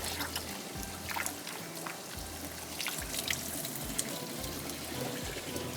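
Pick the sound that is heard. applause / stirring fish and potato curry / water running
water running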